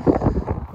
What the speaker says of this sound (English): Please do excuse the wind, it's very windy today